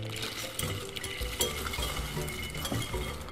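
Pecans tossed in a bowl with a spoon or whisk for spiced nuts give a quiet, irregular scraping and clinking, with small knocks of the nuts against the bowl.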